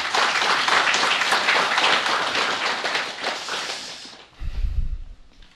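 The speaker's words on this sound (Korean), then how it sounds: "박수로 한번 쳐야 되는데." An audience claps at a Buddhist meditation talk, a dense burst of applause that fades over about four seconds, followed by a short low thump.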